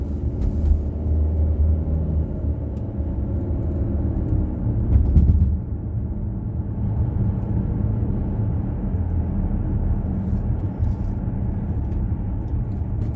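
Steady road traffic rumbles throughout, a dense low engine drone from vehicles on a congested road with a brief louder swell partway through, no talking.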